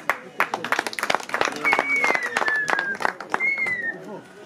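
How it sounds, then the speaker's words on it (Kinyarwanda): Crowd applause for Papa Keira at a gathering: dense, steady clapping fills the whole stretch, with a few high whistles and voices mixed in. "mumumira amashyi"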